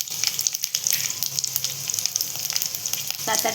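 Seven or eight large garlic cloves fry in a pan, a loud, close, continuous sizzle and crackle with occasional stirring scrapes, and no talk.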